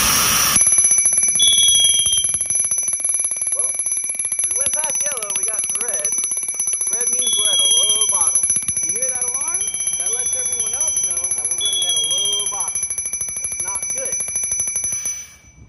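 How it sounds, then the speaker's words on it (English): A self-contained breathing apparatus (SCBA) alarm unit for firefighters, which signals a low air bottle or lack of motion, sounds repeated high electronic beeps over steady tones while a person talks close by. "Machine here that tells us when we have a low bottle, and if we don't move, it also sends an alarm."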